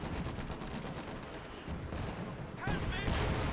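Artillery shells firing in the strategy video game Company of Heroes 2, a dense rumbling barrage of distant booms that swells louder toward the end, with a voice talking over it.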